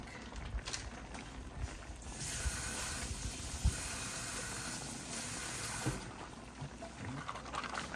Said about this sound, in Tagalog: lagyan natin ito ng konting tubig